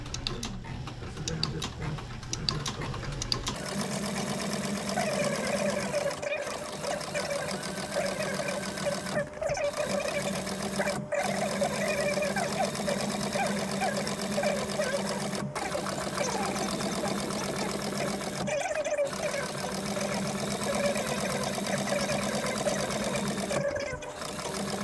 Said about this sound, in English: But now we'll go over to the Cobra Class 4, and I'm going to sew this on.